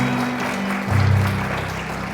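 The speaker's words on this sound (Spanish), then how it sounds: "Vamos a aplaudir al Señor." Church congregation applauding together during a Spanish-language sermon, a steady, dense wash of clapping with a low tonal hum underneath for about two seconds.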